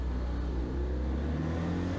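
A classic Citroen 2CV race car accelerates hard off the starting line at Mallory Park. The small engine gives a loud, steady droning roar that rises in pitch, heard close and continuous throughout with no talk.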